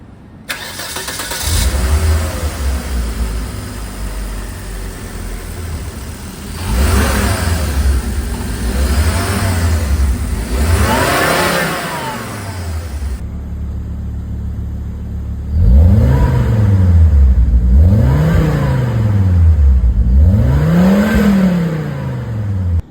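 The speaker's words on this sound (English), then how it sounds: "Turning on the engine." A 1993 Volvo 850 T5 turbo engine cranks and starts, then idles and is revved several times, each rev a rising and falling swell, close and loud with no talk.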